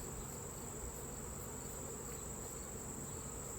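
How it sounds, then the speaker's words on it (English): Honey bees swarm around a hive during a honey harvest as the beekeeper brushes them off the frames, making a steady, dense insect buzz with a thin high whine. It holds even and loud throughout with no voices. "Brushing all the bees off."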